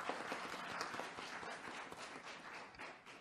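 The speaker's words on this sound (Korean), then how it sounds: "힘찬 박수로 맞이해 주실까요?" Audience applause breaks out at a policy debate held by a provincial sports council for people with disabilities, a soft, steady patter of clapping heard from some distance and fading slightly toward the end.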